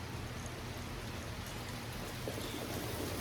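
Steady rain pattering on a surface, a soft continuous hiss of falling drops with no voices, heard during a rainy-day yoga session.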